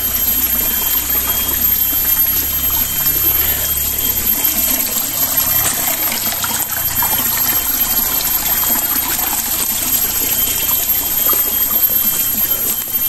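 A small forest creek flows steadily with a constant broadband rushing and trickling of water, close and fairly loud throughout, with no speech.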